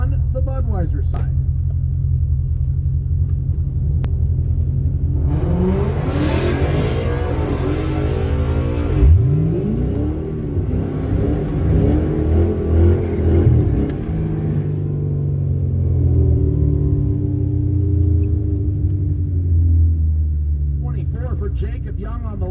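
A 2019 Ford Mustang launches at a drag strip during a Ford event, a low rumbling idle swelling into a loud rising engine roar that sweeps upward and fades, heard under a race announcer talking over the track.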